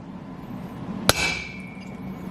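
A single sharp metallic tap of a hammer striking a punch on a VW Thing cylinder head, with a brief ringing tail over quiet background hum.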